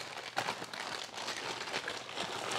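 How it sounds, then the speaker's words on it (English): A fairly heavy plastic bag crinkles and rustles steadily at close range, a continuous soft crackle with small irregular bursts, heard alone without talk. "Fairly heavy plastic bag"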